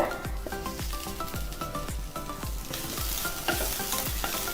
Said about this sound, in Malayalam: ഇനി പഞ്ചസാര ഒന്ന് അലിയുന്ന വരെ ഇതിങ്ങനെ ഇളക്കി കൊടുത്താൽ മതി.